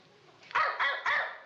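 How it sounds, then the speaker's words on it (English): A neighborhood dog barks three times in quick succession, moderately close and loud, with nobody talking over it. "he starts every other dog in the neighborhood to barking"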